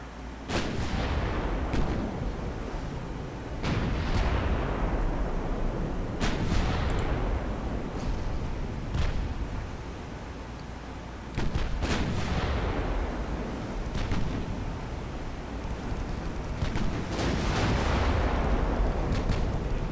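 Ship guns boom in a naval battle in the video game Ultimate Admiral: Dreadnoughts, heavy shots landing every few seconds with long rumbling tails, loud and close over a constant low battle roar.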